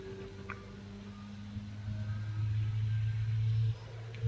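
Car engine in Gran Turismo 5, a lightweight car cut to about 200 kg with under 300 horsepower, droning and building steadily in a low rumble that swells louder toward the end before briefly dropping off.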